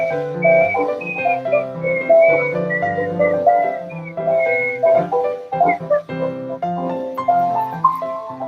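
Someone whistles a steady melodic tune, clear and close, with short pauses between phrases and no talking.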